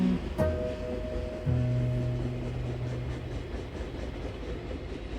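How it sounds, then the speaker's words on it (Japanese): A train rolls past in Kyoto with a steady rumble and a long sustained horn-like tone, with outdoor ambience continuing as it fades. "線路沿いのベンチに腰掛け、梅越しに走りゆく列車を眺める"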